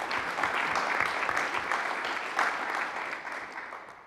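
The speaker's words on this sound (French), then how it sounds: "vous pouvez l'applaudir" Audience applause at a community council meeting, a steady, moderately faint wash of clapping that holds for a few seconds before thinning toward the end.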